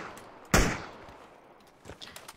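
A single sharp gunshot rings out in PUBG's Miramar desert map during a ranked squad match, followed by a fading tail and a few softer distant shots.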